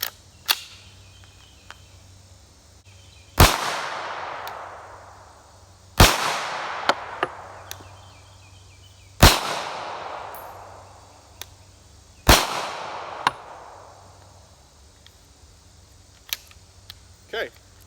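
Four loud unsuppressed 9mm pistol shots, the first two standard 115-grain FMJ and the last two 147-grain subsonic rounds, each a sharp close crack with a decaying echo, spaced a few seconds apart, with faint background hum and small clicks between.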